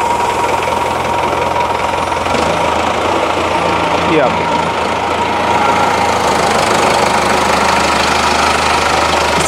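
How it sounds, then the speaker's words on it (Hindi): A Sonalika DI-55 tractor engine runs steadily throughout, a loud low mechanical rumble with someone talking briefly over it. "और ये ट्रैक्टर है सोनालिका का DI-55।"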